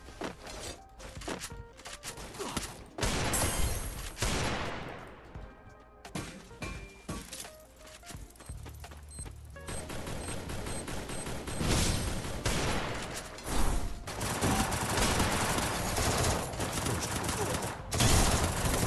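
Rapid gunfire from the video game Counter-Strike during a ranked match: dense bursts of automatic shots and crashes, loud and near, running almost continuously with brief gaps, while players shout over it.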